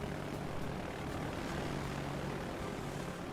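Torpedo bomber aircraft in the World of Warships Legends game: a steady, droning propeller-engine roar holds evenly throughout, with no speech.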